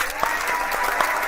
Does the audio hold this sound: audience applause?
yes